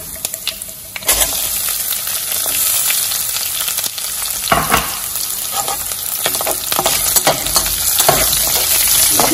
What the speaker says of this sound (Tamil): இப்போ இந்த பூண்டையும் போட்டு ஒரு அடக்கம் வதக்கிடுவோம்